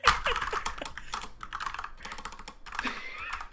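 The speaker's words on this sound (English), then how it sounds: "Listen to that mechanical ass keyboard, fucking firing it away." Rapid clacking of a mechanical keyboard, keys struck in fast uneven bursts close by, with brief bits of background voice.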